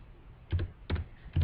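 Three short clusters of computer keyboard keystrokes, close and crisp, spaced roughly evenly against a quiet background.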